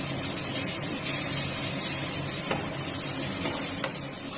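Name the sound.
frying spices in pan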